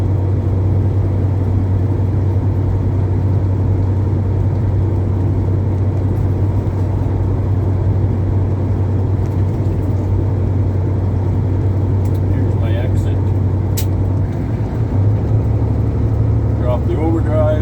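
A truck engine cruising in overdrive at about 80 km/h, a steady low droning rumble filling the cab, constant and close, with faint rattles near the end.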